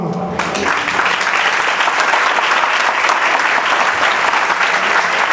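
A church congregation claps together in a steady rhythm, loud, dense and continuous throughout, with a brief voice at the very start.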